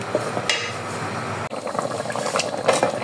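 Water pours steadily into a pan of green chickpeas. The stream is close and continuous, with a brief break partway through, and bubbling and splashing sounds come through as the pan fills.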